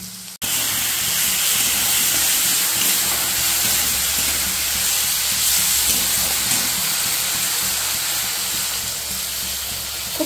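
Beans and potatoes frying in oil with cumin seeds, ginger, turmeric, chilli and tomato, a loud continuous hissing sizzle that starts abruptly and holds steady throughout, with no talking.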